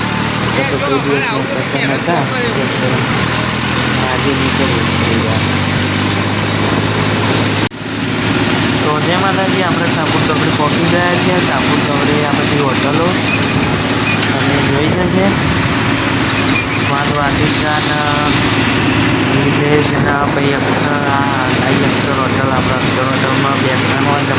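A tractor engine running steadily, a loud continuous low rumble mixed with road traffic noise, with a person talking throughout.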